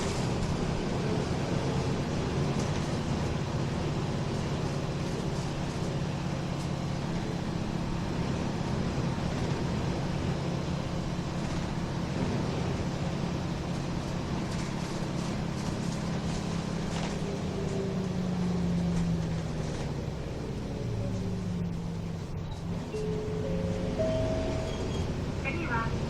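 A Nissan Diesel Space Runner RM city bus (KC-RM211GSN) with an abnormal-sounding engine, loud steady diesel drone and road rumble throughout with a rising pitch sweep near the end, heard from inside under a faint automated announcement.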